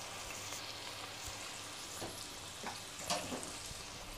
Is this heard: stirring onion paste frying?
yes